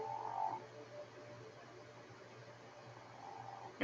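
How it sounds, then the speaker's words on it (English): A small frog near water gives a few faint croaks, one near the start and more toward the end, against a quiet outdoor hiss. "There's a little frog."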